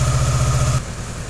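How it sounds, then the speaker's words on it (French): A motorcycle engine idles while warming up, giving a close, loud, steady low throb with a regular pulsing beat; partway through the tone drops and turns quieter and rougher. "Maintenant que le moteur s'est un peu réchauffé"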